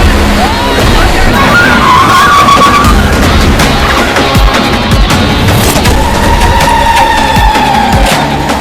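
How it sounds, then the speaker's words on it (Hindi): Car approaching fast and skidding, tires squealing in two drawn-out screeches amid loud rumbling, clattering and impacts, with a busy, dramatic soundtrack. "गाड़ी इसी तरफ आ रही है"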